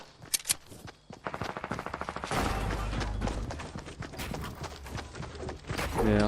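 Rapid turret gunfire in a Fortnite match, bursts of close, loud shots rattling in quick succession, then a sustained heavy barrage of firing and explosions over the last several seconds.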